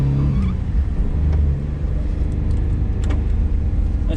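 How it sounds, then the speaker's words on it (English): Mitsubishi Minicab Bravo kei van with a manual clutch, heard from inside with the windows up: a steady low engine drone and road rumble holding throughout, with no talking. "Well, let's drive it around, see how it feels."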